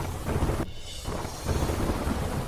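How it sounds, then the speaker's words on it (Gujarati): Heavy rain pours over the urban area of Imphal, Manipur, with rumbling thunder rolling through; a loud, dense wash of storm noise briefly dips before surging again. "મણિપુરના શહેરી વિસ્તારમાં ભારે વરસાદ।"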